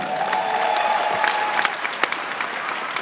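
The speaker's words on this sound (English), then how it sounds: "Give her a round of applause, please." Steady audience applause from a crowd, dense and continuous clapping throughout at moderate loudness, with a few sharper individual claps standing out.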